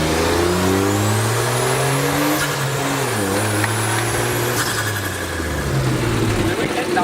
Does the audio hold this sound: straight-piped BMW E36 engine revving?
yes